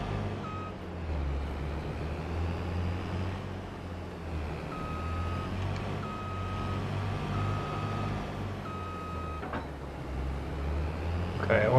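A truck in a farming game backs up a trailer, steady reversing beeps pulsing at a regular rhythm over a loud, rumbling diesel engine, with a sharp hiss near the end.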